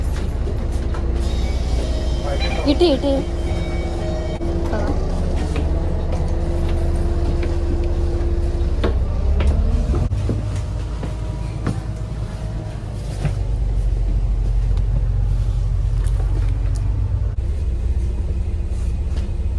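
Riding a double-decker bus in Singapore: a steady low engine rumble and road noise fill the cabin throughout, with faint rattles and a brief squeal early on and a single spoken word.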